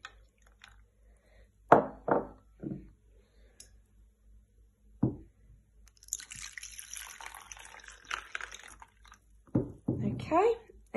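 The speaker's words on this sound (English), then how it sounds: "you are going to fill your pots with water. Fill it nicely to the top" Water is poured to fill pots while preparing a science ice experiment, with a few close splashes and a gushing stretch midway, mixed with short bursts of a voice talking.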